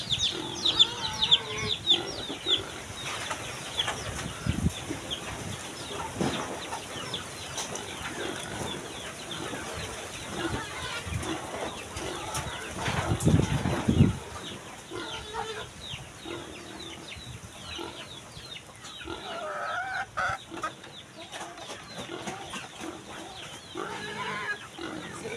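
Chickens cluck and murmur on a farm in a busy, mid-distance chorus of short calls, with occasional louder squawks and faint rustling throughout.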